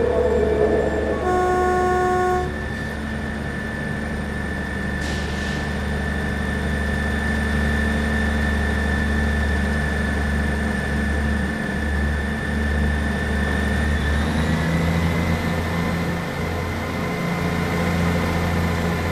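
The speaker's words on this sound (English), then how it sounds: "Our four-car train is at Platform 16, and consists of two Class 158 Express Sprinters" A four-car train made of two Class 158 Express Sprinter diesel units idles and pulls away from Edinburgh on the Fife Circle line, a steady engine drone with tonal whines that climb in pitch as it gathers speed.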